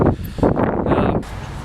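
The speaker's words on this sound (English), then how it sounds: "it's fucking windy" Strong gusting wind buffets the microphone with a loud, rumbling roar that surges and dips, then settles into a steadier rushing hiss.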